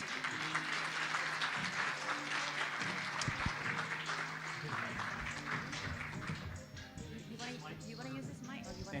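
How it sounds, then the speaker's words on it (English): Audience applause at a leadership summit keynote introduction, a dense steady wash of clapping lasting throughout, with voices talking over it and low tonal sound beneath. "Round of applause."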